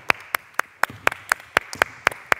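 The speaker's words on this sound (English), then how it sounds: "Clap it up, clap it up." A basketball team claps hands together after a layup warm-up drill, about ten sharp, evenly spaced claps in a steady rhythm, close and crisp against a quiet gym.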